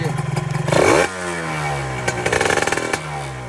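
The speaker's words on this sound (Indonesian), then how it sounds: "Kita boleh tekan RPM tinggi" Motorcycle engine revving hard at high RPM on a highway, loud and close, with a rising whine that drops back and climbs again in pulsing surges.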